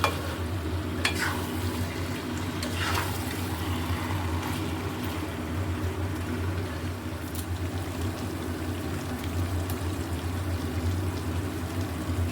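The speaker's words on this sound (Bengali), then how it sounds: "নেড়ে দেবো।" Winter vegetables are stirred in a hot pan, a continuous soft scraping and sizzling with occasional sharper clinks of the utensil over a steady low hum, with no one speaking.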